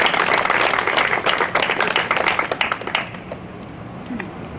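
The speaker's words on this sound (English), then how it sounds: "let's give a round of applause to our donors this year" An audience at a candy mural dedication gives a round of applause for the donors, brisk dense clapping that stays strong for about three seconds and then tapers off into quieter room noise.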